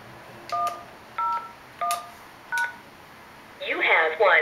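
Four short two-tone keypad beeps from a Linksys SPA941 desk phone entering a voicemail PIN, evenly spaced, followed by a brighter, louder burst of tones at the end.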